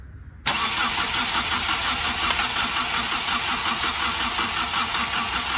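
A Hyundai i20 engine, mid-repair while its injectors are bled, cranks abruptly and keeps up a loud, close, continuous churning whir with a rapid pulsing rhythm and no voices.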